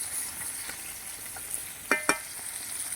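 Koi fish frying in hot oil, a steady soft sizzle and crackle with a couple of brief louder clicks of spatula or fish turning, close and alone without voices.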